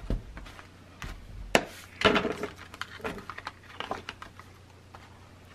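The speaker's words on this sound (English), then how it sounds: "So now I need to just burnish that really good." Paper layers on a scrapbook fold-out pocket page being burnished, heard as a close series of scraping, rubbing strokes and sharp taps, loudest around the middle, with no talking.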